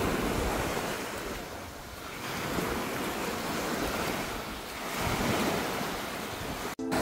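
Surf washes onto Cabongaoan Beach in Burgos, Pangasinan, at high tide, a steady broad roar of breaking waves with wind rushing across the microphone, swelling and easing without pause and with no voices.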